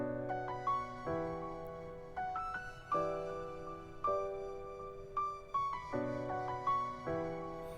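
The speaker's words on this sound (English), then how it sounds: "this lead right here" A bright synth lead plays a stepped melody of held notes with sharp attacks, phrases repeating over a steady backing, no voices.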